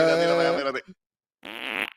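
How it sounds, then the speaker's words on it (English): A loud comic fart sound effect plays in two long, buzzing bursts separated by a short silence, close and clear with no talking over it. "Give me another fart."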